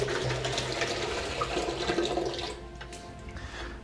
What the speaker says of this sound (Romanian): Eu voi amesteca, voi lua fiecare vas apa din Marea Roșie.